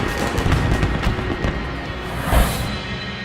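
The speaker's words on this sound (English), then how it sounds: "Fireworks to show the start of these games" Fireworks at the opening ceremony of the London 2012 Olympic Games video game, a continuous crackle and popping of bursts with a louder boom near the end, over a low crowd rumble.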